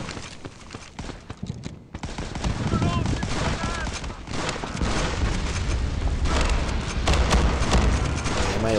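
Dense gunfire in a World War 2 video game during a 4v4 match, bursts of rapid shots and booms building into sustained fusillades, with someone talking over the action.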